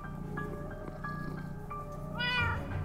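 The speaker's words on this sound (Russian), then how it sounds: "Киска, плохая киска. Очень плохая киска." A cat meows repeatedly in the Minecraft Story Mode video game, a series of tonal mews that ends with a louder, rising caterwaul, heard over a low background hum.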